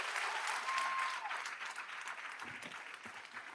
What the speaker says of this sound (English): I'm going to ask everyone to hold their applause in between